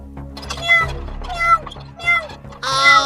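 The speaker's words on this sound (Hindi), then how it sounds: "बिल्ली की आवाज आने लग गई है" A cat meows several times in a row, the calls loud and close with a rising, strained final cry, while a low steady hum runs underneath.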